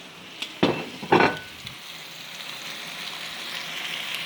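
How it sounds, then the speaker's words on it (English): Pork steaks sizzle in a hot pan with a steady crackling hiss, punctuated early by a couple of louder clanks or stirring noises. "Now you're going to watch the meat sizzle."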